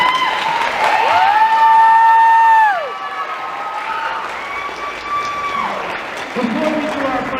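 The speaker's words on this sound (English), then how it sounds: "one more round of applause for Logan on that." Audience applause and cheering at a winter band concert, a crowd clapping at moderate level beneath prominent whistle-like tones and voices through most of the stretch.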